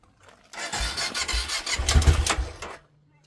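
The engine of a converted bus cranks and catches, giving a rough, sputtering churn of about two seconds heard close up before it cuts off.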